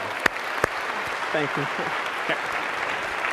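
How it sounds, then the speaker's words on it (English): A lecture hall audience applauds in a soft, steady wash, with a couple of sharp knocks early on and a brief spoken thanks partway through. "a big round of applause"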